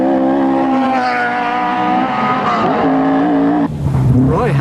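A rally car at the 1990 Lurgan Park Rally slides sideways through a stage on a faulty tyre, its engine revving and rising loud and close while tyres squeal and skid, pitch shifting through gear changes.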